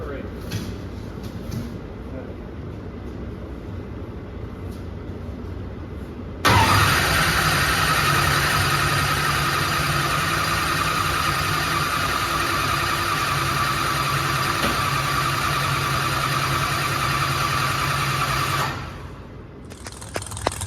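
A repaired car engine cranks and fires up suddenly, then settles into a steady, loud idle for several seconds before shutting off, with people talking nearby.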